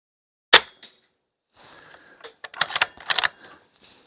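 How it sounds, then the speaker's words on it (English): A BSA Super 10 Evolution .22 air rifle is cocked, starting with a sharp metallic click followed by a quieter second click, then a run of close mechanical clatters and ratcheting snaps from the action. "Lovely crisp cocking action."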